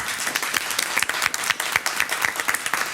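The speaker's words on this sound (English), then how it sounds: "Let's give a round of applause to the two coaches for our teams." Applause from the studio audience of a Bay Area quiz show for the two school team coaches, a steady burst of many hands clapping with individual sharp claps standing out, close and fairly loud.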